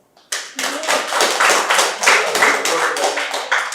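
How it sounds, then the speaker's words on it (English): An audience at an evangelist's mono drama performance claps, a dense, steady burst of applause that starts abruptly and carries on strongly throughout. "You can clap if you want."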